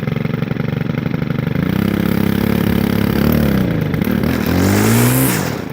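A Stihl FS130 4-mix string trimmer engine runs at full throttle, loud and close, in a steady buzzing drone whose pitch wavers and dips as it starts to bog down, then climbs again.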